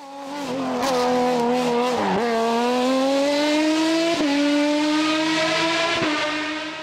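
Norma M20 F3-litre CN3 race car at the Turckheim hill climb, engine screaming loud and close as it revs hard through several rising gear changes, with brief dips between shifts and no talk.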